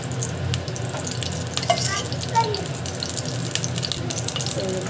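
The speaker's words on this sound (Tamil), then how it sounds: "ஆயில் போட்டிருக்கோம், ஆயில் நல்லா காயிடும்" Cooking oil hitting a pan to heat for a dhaba-style mushroom biryani, a soft steady sizzle with watery hiss and occasional clinks, fairly close, with a voice speaking lightly over it.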